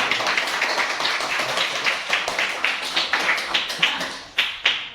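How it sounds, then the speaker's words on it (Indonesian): Students in a fifth-grade classroom clap their hands together, a brisk group round of applause that thins into a few louder, separate claps toward the end. "sekali lagi tepuk tangan untuk kalian"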